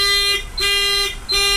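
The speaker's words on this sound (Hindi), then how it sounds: "गाइस फोर इंडिकेटर भी इसमें चल गए हैं।" A Mahindra BS4 vehicle with an indicator wiring problem has its four-way hazard indicators switched on, giving a loud electronic beep that pulses on and off about every 0.7 seconds, close by, with no talk over it.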